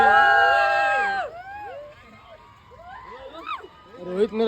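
Village boys celebrating India's World Cup win, with excited shouting and cheering voices, a loud burst at the start, then scattered whoops and yells trailing off.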